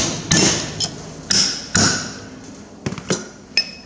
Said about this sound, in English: all we're going to do is knock out the seal.